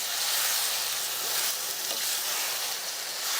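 Marinated chicken pieces stir-fried with spices in hot oil over a medium flame, giving a steady, close, dense sizzle with a faint stirring texture throughout and no talking.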